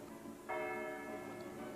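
Church bells on a lake island in Slovenia ring out in a steady, sustained chime with rich ringing overtones, starting suddenly after a short quiet moment and continuing loud and resonant to the end.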